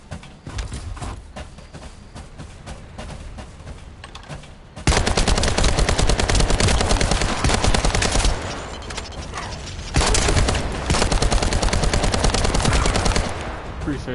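Sustained automatic weapon fire in The First Descendant video game, a rapid, loud, continuous rattle that swells in long bursts with brief easing between them.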